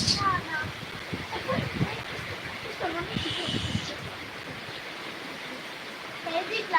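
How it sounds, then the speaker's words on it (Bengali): Gusty wind and rain in a late-night storm in Italy, a broad steady wash of noise with fluctuating gusts, while a person talks intermittently over it. "যে এত বাতাস মানে বৃষ্টি তো সাথে বাতাস"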